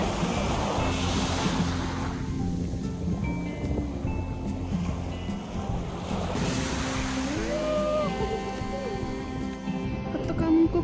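Sea waves washing onto the shore in southern Taiwan, two broad surging swells rising and falling, with wind buffeting the microphone and a steady tonal hum running underneath.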